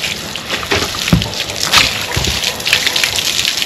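Water is poured and splashed over a young filly during her first bath, with irregular gushing and sloshing bursts close by and a faint voice in the background.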